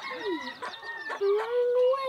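A chicken being held clucks and crows in a string of bright, close calls, its voice rising and falling with short squawks before a sustained tone near the end.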